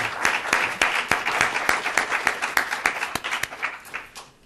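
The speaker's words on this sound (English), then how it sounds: "Please join me in a round of applause for a terrific panel." A crowd at a panel discussion applauding steadily, many hands clapping in a dense, continuous patter that holds for several seconds.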